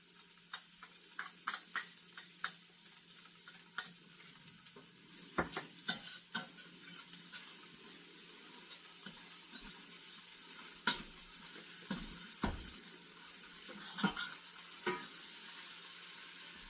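Shallots sizzle quietly in a pan holding leftover browned bits from pork marsala, a faint continuous hiss broken by scattered sharp ticks and spatters, with no talk.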